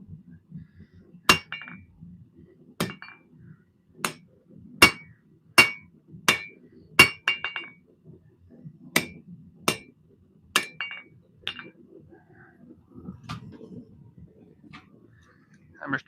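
Hammer striking hot steel while forging a custom knife, a dozen or so sharp ringing metallic blows at an irregular, slowing pace, each one clear and close over a quiet workshop with faint breathing and murmuring between strikes.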